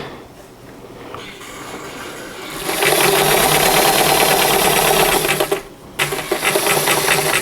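Sewing machine stitching along a fabric edge, its needle chattering fast and loud in a sustained run. It cuts out briefly near the end and then restarts.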